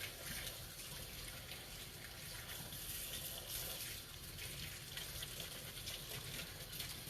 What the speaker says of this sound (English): I'm going to clean out the hose just using my brush.